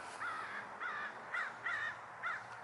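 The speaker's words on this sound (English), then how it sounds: "you hear the birds again?" Five evenly spaced caws from a crow, fairly distant, in a cemetery, repeating about every half second over a soft outdoor hiss.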